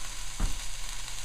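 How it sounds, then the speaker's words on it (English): Onions sautéing in a pan for a sausage and red peppers dish, giving a steady close hiss of sizzling with a brief stir or scrape partway through. "Hope you can hear that sizzle."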